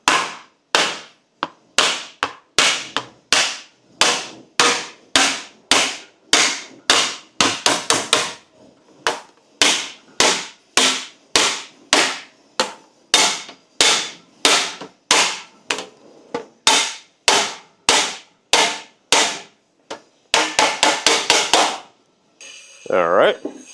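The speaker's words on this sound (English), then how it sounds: "we're going to use this slapper file, literally a file shaped into spoons. I can use it to slap a dent out." A slapper file, a file shaped like a spoon, is slapped repeatedly against a dented car door panel, giving dozens of sharp, loud, close smacks in a steady rhythm with brief pauses and a quick burst near the end.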